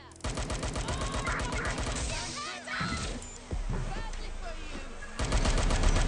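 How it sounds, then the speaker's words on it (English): Rapid bursts of automatic gunfire crackle in Watch Dogs: Legion, loud and rhythmic, with brief pauses and voices mixed in between volleys. "Gunfire!"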